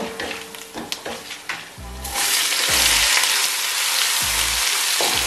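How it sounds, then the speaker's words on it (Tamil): Onions and chana dal fry in hot oil for chicken biryani: a loud, dense sizzle that swells midway and holds steady, with occasional spoon stirs and scrapes, no voices. "வெங்காயம் நல்லா ப்ரௌனா பொரிஞ்சு வரணும்"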